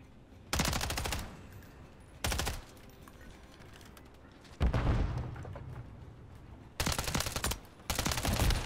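Automatic rifle fire in Call of Duty: Modern Warfare III from an MTZ 556 setup, coming in several sharp rapid bursts separated by quieter gaps, loud and close with no talking.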